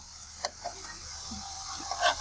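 Green banana fritters fry in oil. A faint, low sizzle comes with a few light stirring scrapes and taps over a couple of seconds. No voices are heard.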